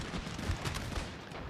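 Rifle volleys crackle in a Napoleon: Total War battle, a faint, rolling spatter of distant musketry under a low rumble.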